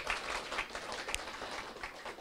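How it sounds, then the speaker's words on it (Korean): A conference audience at a Saturday business seminar applauds a lecturer, a dense, steady patter of many hands clapping at moderate volume with a few sharper claps standing out. "우리 열정적으로 강의해주신 우리 이용술 사장님께 다시 한번 박수 부탁드리겠습니다."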